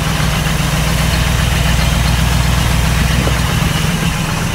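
A 1963 Chevrolet Impala engine idles steadily and loudly up close, with a deep, even rumble that carries on without a break and no voices.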